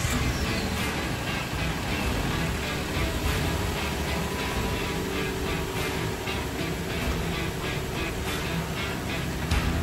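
A Ford F150 flex-fuel pickup's engine running just after an oil change at about 105,000 miles, a constant, fairly loud mechanical drone that holds steady for the whole stretch with no talking over it.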